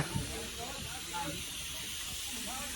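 Steady broadband hiss of a freshly lit McLaren steam traction engine at a steam and vintage rally in Innishannon, with faint voices and rumble mixed underneath.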